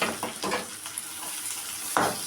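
A quarter kilo of minced meat sizzles in a pan with softened onion, steady close frying hiss broken by a few stirring scrapes and louder bursts as the spoon moves.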